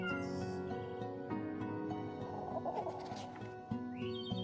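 Game cat meowing in the video game Secret Cat Forest, a soft mewing call over steady layered background music with chimes, fairly faint and brief near the middle.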